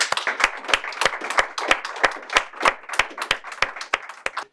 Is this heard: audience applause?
yes